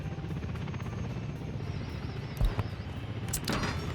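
A helicopter in the video game Workers & Resources gives a steady, fairly quiet rotor drone with a couple of brief knocks partway through, and no speech.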